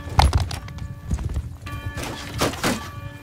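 Cavalry horses gallop through a Mount & Blade II: Bannerlord battle with irregular, heavy hoof thuds, scattered whinnies and clattering impacts, moderately close.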